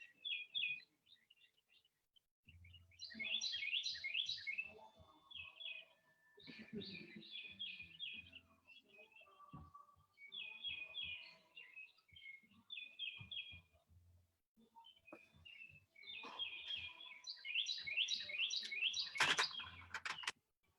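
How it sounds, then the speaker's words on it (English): Birds chirp and trill outdoors in repeated bright bursts of song, fairly close, with brief pauses between phrases and faint background sounds. "All we're hearing are the birds"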